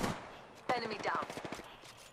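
Gunfire in the Apex Legends battle royale game, a rapid burst of sharp shots and clattering impacts mixed with game sounds and brief voiced callouts.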